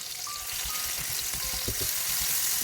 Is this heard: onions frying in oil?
yes